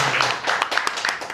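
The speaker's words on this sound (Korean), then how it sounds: "박수로 맞이해 주십시오." An audience applauds in a brief patter of claps. The clapping is moderately loud and irregular and ends quickly.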